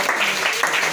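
A church congregation applauding together during a worship service, a dense, steady clatter of many hands filling the short moment.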